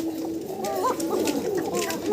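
Caged pigeons of a breed sold as pairs coo in soft, rolling, repeated calls, close by and moderately loud.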